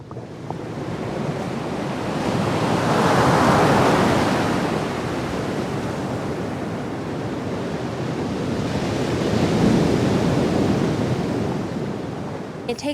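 Pacific surf breaks at a Fiji surf spot in a continuous wash of crashing waves, swelling twice to loud peaks with wind buffeting the microphone and no voices.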